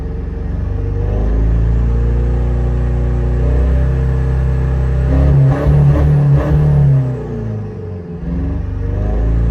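A 1.9 turbo engine free-revving with no load, a loud steady drone close by that swells through a few quick blips of the throttle before settling back.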